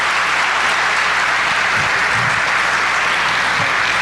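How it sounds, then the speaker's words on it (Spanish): An audience applauds warmly at the end of an Industry 4.0 conference talk, a dense, continuous wash of clapping from many hands, steady and fairly loud without speech. "Ricardo, pedimos que se te pueda brindar un caluroso aplauso."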